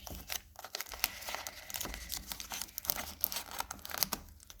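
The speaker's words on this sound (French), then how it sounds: "Bon, on va bien mettre le gros scotch" Wide adhesive tape is torn off the roll in several rough, crackling rips, with crinkly handling noises in between, while homemade maracas are being made. It sounds close and fairly quiet.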